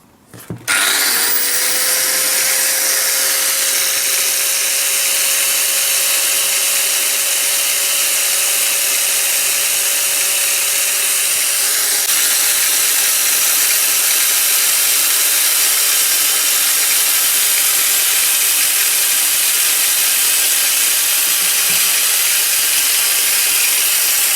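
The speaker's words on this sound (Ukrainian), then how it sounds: "Кутова шліфмашина болгарка Старк. Це копія, практично повна макіти. 11 тисяч обертів декларує." A Stark mains angle grinder, a near copy of a Makita rated at 11,000 rpm, spins up sharply and runs unloaded at full speed as a loud, steady, high whine for the whole stretch.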